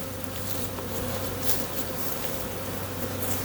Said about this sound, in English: notice how content the bees are at the entrance. They're fanning.